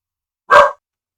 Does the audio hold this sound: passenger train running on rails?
no